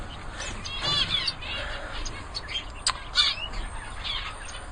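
Small society finches chirp and call in alarm, a busy mix of short tweets and a few sharper squawks, fairly close and continuous over a steady background hiss with no talk.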